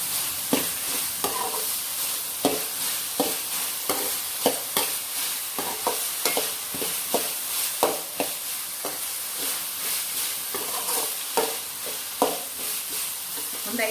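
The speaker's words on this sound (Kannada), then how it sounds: "ಒಂದು 5 ನಿಮಿಷ ಇದೇ ರೀತಿ ಎಣ್ಣೆಲೆ ಚೆನ್ನಾಗಿ ಬೇಯಲಿ." Brinjal palya cooking in oil in a pan, a steady sizzle and fry broken by frequent clattering spatula stirs in an uneven rhythm, close and fairly loud, with no talking.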